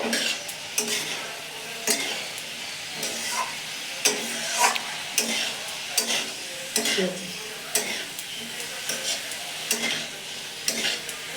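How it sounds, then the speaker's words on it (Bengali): Cut potatoes fry with oats for khichdi in a pan, a steady sizzle under repeated rhythmic scrapes and clinks of a spoon stirring against the metal, close and without talk. "এবার এটা ভালো মতো ভাজতে হবে"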